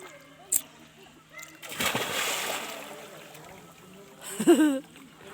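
A child splashes in a hotel holiday swimming pool, with a sharp splash early, broken water sloshing midway and a louder splash near the end, while an adult voice speaks in the background.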